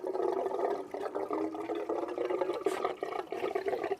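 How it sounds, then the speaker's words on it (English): Water rushes and gurgles steadily as it drains from the bowls of a pool pump, a continuous splashing flow with slight bubbling fluctuations, close by and with no talking. "drain all the water out of the bowls of the pump"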